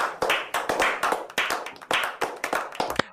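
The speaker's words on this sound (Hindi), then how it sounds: "वाह तालियां बनती है" Rhythmic hand clapping, a handful of sharp close claps in an uneven pattern with short pauses between bursts, alone and fairly loud.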